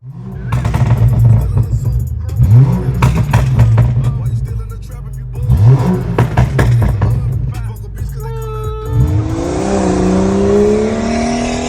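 Car engine fitted with an RVG catted downpipe and a Stage 2 Plus tune, revving hard in several loud close bursts with crackles between them, then a long rising pull with a whistling whine.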